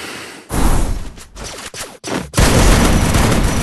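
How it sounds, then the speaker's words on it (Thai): Gunfire erupts in the battle royale game Free Fire, loud bursts of rapid shots broken by brief gaps before a sustained, dense volley fills the end. "ไอ้นี่ยิงผมฟรีเลยทุกคน"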